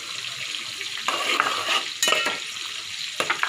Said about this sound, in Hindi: और हमारा टमाटर थोड़ा सा नरम हो गया है, तो हम इसमें पिसा हुआ प्याज डाल देंगे।